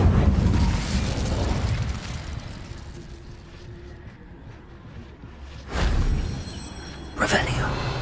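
The Incendio fire spell in Hogwarts Legacy bursts in with a deep whooshing blast, fades to a low rumble, then two more sharp bursts follow near the end.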